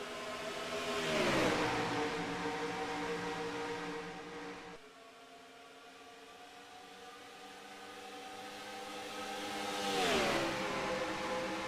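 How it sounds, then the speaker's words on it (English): Racing trucks in a Talladega race in a video game, engines swelling as one roars past near, fading to a steady drone, then another rising pass and fade. "As these cars, or trucks I should say, get up to speed"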